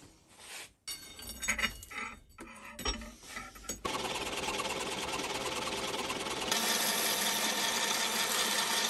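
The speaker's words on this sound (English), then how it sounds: "Just gotta chop it about here now. Get in the lathe." A metal lathe turns and cuts a shortened piece of metal for a knife sharpening jig, a continuous steady whirring grind that settles in after some clanking and grows brighter partway through.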